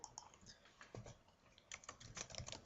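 Quick, light keystrokes on a computer keyboard entering a short word into a WordPress post editor, irregular bursts of clicking, close and fairly quiet, with no talking.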